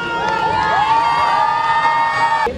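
Wedding sangeet guests cheer, whoop and hoot for a groom's surprise dance performance, a loud continuous crowd roar with high-pitched shouts that swells and holds steady throughout.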